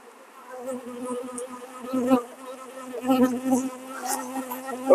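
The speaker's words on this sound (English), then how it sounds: "There's a lot of bees in this box, so I'm gonna have to watch this pretty close." Dense honeybee buzzing fills a crowded beehive box at close range, a steady drone with rising and falling swells and no talking.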